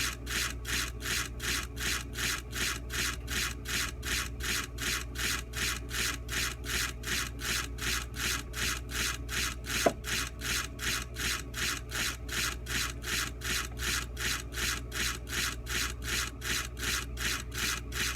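Someone smooths a small wooden piece by hand with fast, even rasping strokes that repeat steadily all the way through, close and uniform, and no one speaks.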